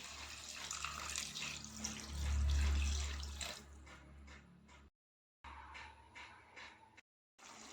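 Water pours into a pan of chicken curry in a steady, splashing stream that swells then tapers, followed by a few short bursts of trickling and pauses.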